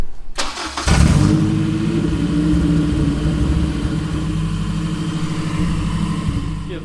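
A Honda K24 engine fitted in an AE86 touring car cranks and fires up, then runs at a steady, racy idle with a loud, close, throbbing drone and slight fluctuations.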